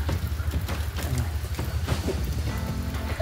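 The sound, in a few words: rain falling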